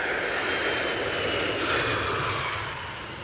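An airplane engine drones steadily in flight, a broad loud cabin roar that holds evenly and eases slightly toward the end, with no voices over it.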